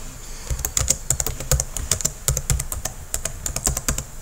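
Text typed on a computer keyboard, a steady run of close, crisp key clicks with brief pauses between bursts, no voices.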